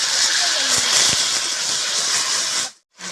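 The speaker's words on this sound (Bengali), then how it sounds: "মশলা বাটা জল দিয়ে দিচ্ছি।" Water poured into a pan of ground spice paste of ginger, dried chilli and cumin sets off a loud, steady, close hiss that cuts off abruptly near the end, then briefly returns.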